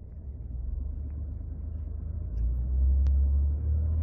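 A 2017-or-later Ford F-150 with a 10R80 ten-speed transmission pulls away under light acceleration, its low engine rumble steady and close, swelling slightly partway through as the revs climb.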